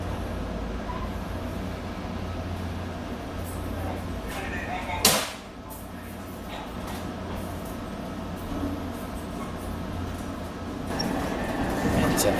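A freight train passes with a steady, low rumble of rolling wagons, fairly distant, broken midway by one sharp, loud clank, then swelling slightly again toward the end.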